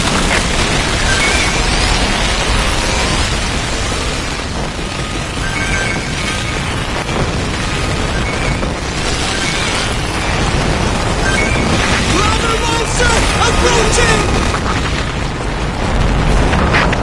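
Relentless booming explosions from copper cannons in Earth Defense Force 6, a dense, loud, continuous barrage of blasts and crashes with no letup, heavy low rumble throughout.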